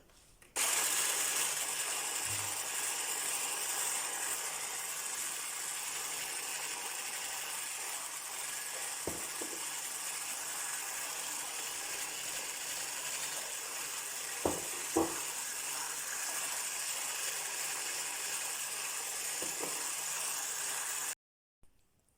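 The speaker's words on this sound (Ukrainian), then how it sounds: "Далі збиваємо жовтки і в три етапи будемо додавати цукор" An electric mixer whipping egg yolks for a chiffon chocolate sponge cake runs as a steady, fairly quiet whirring hum for about twenty seconds, with a few brief knocks from sugar being added, then stops.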